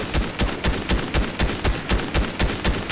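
Shotgun blasts in a multiplayer shooter video game, fired as a rapid, steady string of about a dozen loud, punchy shots over a few seconds with no pauses.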